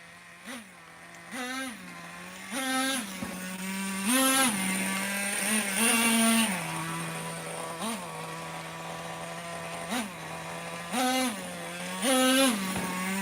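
The nitro engine of a T-Maxx Classic 2.5 RC truck gives a high, steady buzz. It climbs in repeated short revving bursts, loud and nearby, with no talk over it.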